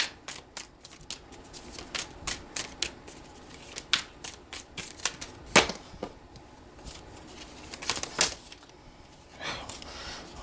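Tarot cards being shuffled by hand, sounding as quick bursts of crisp riffling and flicking that come in irregular clusters, close up and fairly soft, with no talking during them.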